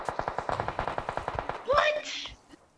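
Rapid automatic gunfire in a video game, about fifteen evenly spaced shots in a fast burst, followed by a short shout and game sounds, with voices present.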